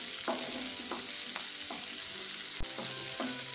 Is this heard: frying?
yes